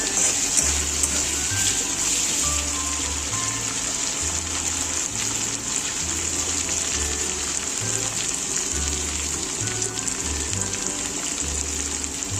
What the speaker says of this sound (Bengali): ভালো করে আদাটাকে কষিয়ে নিতে হবে